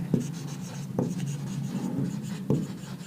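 Writing on a board during a math lecture, steady scratchy strokes with a few sharp taps as each new mark begins, close and clear.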